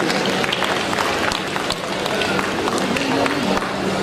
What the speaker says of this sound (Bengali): একবার জোরে হাততালি আমাদের দুই বিচারকের জন্য।